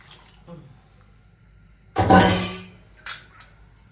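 A short burst of hot water poured into a pot of dal, with faint clinks of utensils before and after; the room is otherwise quiet.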